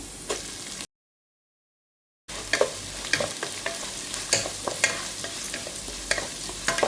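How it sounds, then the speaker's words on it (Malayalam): Urad dal frying in hot oil as onion, green chili and curry leaves go in, a steady crackling sizzle with sharp stirring clicks, briefly cut to silence before resuming, no talking. "ഉഴുന്ന് ചെറുതായിട്ട് ഇതുപോൽക്കൊന്ന് മൂത്ത് വരുമ്പോൾ നമുക്ക് ഉള്ളിയും പച്ചമുളകും കറിവേപ്പില എല്ലാം കൂടെ ഇട്ട് കൊടുക്കാം"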